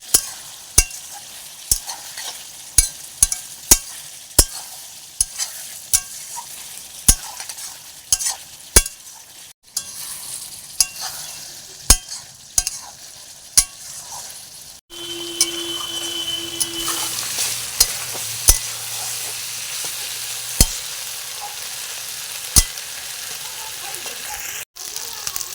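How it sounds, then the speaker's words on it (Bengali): Duck meat stirred in a frying pan: repeated sharp scrapes and knocks of a utensil over a steady sizzle, growing louder and denser partway through, with a brief tonal hum near the middle. "মাংসটা নেড়ে দিতে হবে যাতে না লাগে।"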